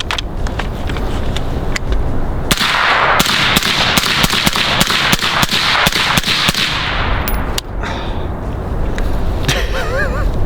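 Suppressed AR-15 rifle firing through a magazine or two: a run of sharp, loud muffled shots in quick rhythmic succession, starting singly then in a rapid string, with brief pauses and metallic handling sounds between.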